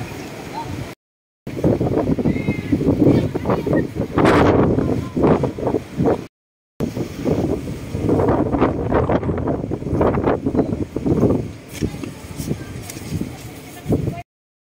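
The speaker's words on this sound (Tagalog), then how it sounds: "Uugong-ugong talaga ang hangin dahil ang lakas." Strong, roaring wind gusts batter the microphone at People's Park in the Sky in Tagaytay on a cold, foggy day, loud bursts of rumble broken by two brief dropouts.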